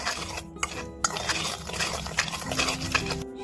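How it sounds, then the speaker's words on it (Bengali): A spoon scrapes and clinks against a bowl while semolina is mixed with salt, baking soda and baking powder for an eggless sooji cake, with quick repeated stirring taps close by and steady scraping throughout. "এবার আমি এগুলোকে ভালো করে মিশিয়ে নেব।"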